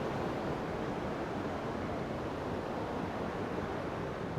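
A river flows through a lush forest, making a steady, dense rush of water that stays constant and fairly close throughout with no talking.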